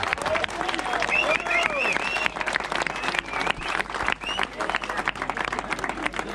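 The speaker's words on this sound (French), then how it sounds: "on les applaudit bien fort" Crowd applause at a local event, brisk dense clapping from many hands held steady throughout, with scattered voices and cheers rising over it.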